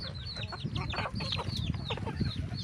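Chickens and bantams at a farm cluck and chatter in a busy, overlapping flock, with repeated short calls heard at moderate distance over a low background rumble.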